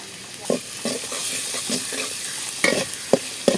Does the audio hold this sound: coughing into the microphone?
no